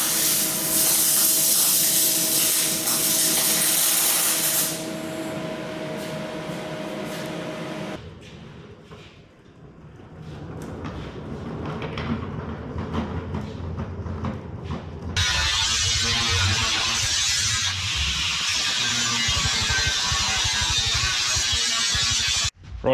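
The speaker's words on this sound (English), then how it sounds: "So now we can weld these cleats completely." Welding cleats onto a homemade rock slider for off-road vehicle armour: loud, steady crackling hiss in long continuous runs with brief changes between passes, and no talking.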